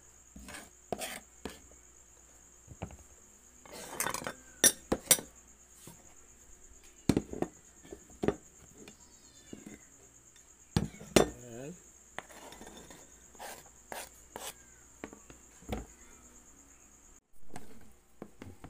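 Onions chopped with a knife on a board while cooking lumpia with oyster mushrooms and ground pork, irregular sharp knocks and clicks in quick clusters, with a person talking in between and a faint steady whine behind.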